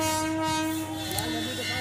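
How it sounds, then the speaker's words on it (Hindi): Train pulling slowly away from a crowded track during an air show in Prayagraj, sounding a loud, steady horn close by with low rumbling underneath. "धीरे धीरे ट्रेन आगे बढ़ रही है हॉर्न देते हुए।"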